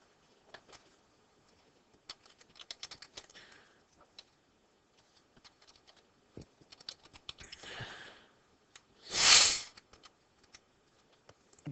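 Someone types a search word on a computer keyboard: scattered light key clicks in short bursts, moderately close and fairly faint, then a louder single broadband swoosh near the end.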